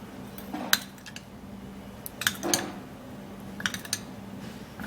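A spoon clinks and scrapes in a bowl while mixing a turmeric, honey and milk paste, a few faint, sparse metallic taps over quiet room background.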